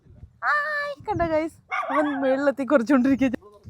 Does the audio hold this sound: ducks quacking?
no